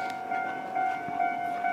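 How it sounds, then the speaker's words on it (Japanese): Commuter train pulling into a station platform in Japan, with a steady tonal whine and rumble of the approaching train, moderately loud and without talking. "お、電車、あれかな、僕たちが乗る電車は。"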